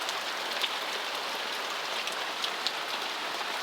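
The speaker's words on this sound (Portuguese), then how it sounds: "Não dá pra ver a chuva, dá, né?" Rain falls steadily on surfaces, a dense, even hiss of drops with occasional louder close splats, continuous and unbroken with no voices.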